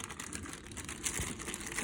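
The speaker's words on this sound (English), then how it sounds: "As you can see, it's got a loose plastic bag around it." A loose plastic bag around a Blue Yeti microphone box crinkles and rustles close up as it is handled one-handed, in a short burst of crackling.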